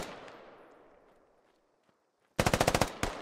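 Video-game gunfire in a squad-level combat mission: a fading tail, a near-silent gap, then a loud close burst of about seven rapid shots and one more single shot.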